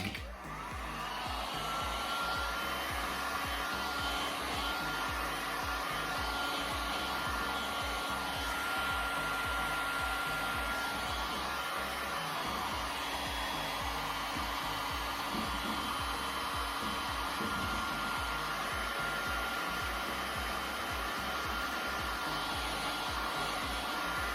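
A heat tool blows hot air onto glue on a piece of furniture, a steady close whirring rush that holds unbroken for over twenty seconds with no talk.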